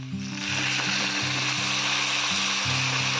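Potatoes fried for about five minutes in a pan with spices, hissing in a steady, loud sizzle with faint stirring scrapes and a low repeating hum underneath.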